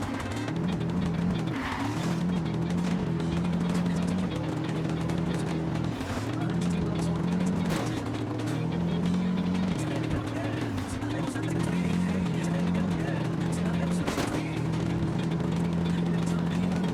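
Car driving in Ghost Recon Wildlands, a steady engine drone with a shifting pitch and a few brief tire or impact noises over background game sounds.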